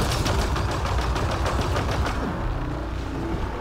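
Turrets firing in Mass Effect: Andromeda, a rapid, steady stream of automatic shots with evenly spaced cracks over a dense rumbling battle background, loud and continuous for several seconds.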